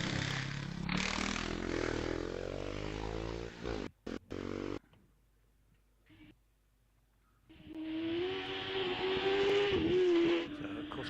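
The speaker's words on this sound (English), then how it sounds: "The Allard number 199 is now heading towards the start line." Allard car at the Wiscombe Park hillclimb, a loud engine revving hard near the start line, cutting out briefly, then a quiet gap before another rising engine note returns with a whine, with no one talking.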